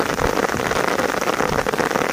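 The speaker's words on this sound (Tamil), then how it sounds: "கொஞ்ச நேரத்துலேயே இது மழை பொழக்குதுங்க." Steady rain falls outdoors after a spell of hot sun, a dense, even patter of drops on surfaces that stays loud and constant throughout with no voices.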